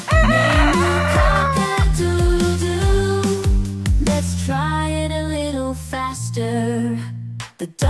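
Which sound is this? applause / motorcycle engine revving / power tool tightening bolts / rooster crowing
rooster crowing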